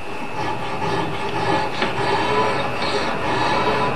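A hand file rasps steadily across the blade of an axe, continuous scraping strokes blending into one another at close range.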